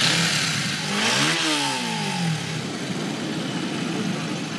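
Heavy motorcycles rev at a women's bike rally on the Karachi seaside, a rising and falling engine sweep swelling then fading over steady outdoor crowd noise.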